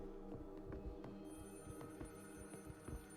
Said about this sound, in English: Oh, I hear a phone ringing.